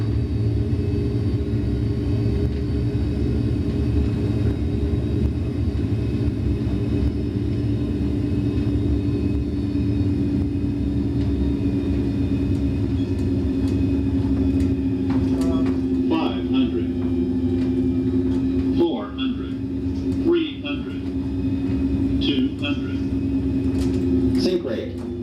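Simulated Boeing 737 engines spool up in a flight simulator game, a steady loud low rumble and drone that holds throughout, with voices talking and brief clicks over it near the end.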